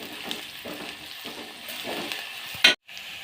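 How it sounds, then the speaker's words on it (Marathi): Onion, curry leaves and ground garlic sizzle in a pan for a cabbage dish, a moderate frying hiss with soft stirring scrapes, ending in a sharp clink and a sudden cut to silence. "त्यानंतर त्यात कढीपत्ता टाकून घेऊ त्यानंतर त्यात बारीक वाटलेला लसूण घालून परत एकदा हात फिरून घ्यायचा"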